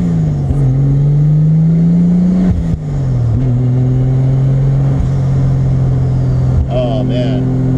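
Toyota MK3 Supra with a turbocharged 7M-GTE straight six revving: a loud, close engine note that holds steady, dips and climbs through several blips, with a person talking over it.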